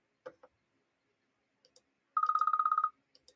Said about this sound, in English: I forgot to put my phone on Do Not Disturb.